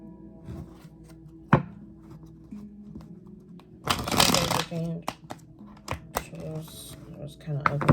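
A deck of tarot cards is shuffled in a card reading, with a sharp riffling burst in the middle and scattered taps and card clicks before and after, close by, while a voice talks at intervals.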